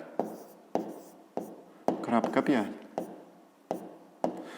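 Pen writing on paper during a fifth-grade math exercise on a square, a series of short scratchy strokes at irregular intervals, close and fairly quiet, with a brief voiced sound in the middle.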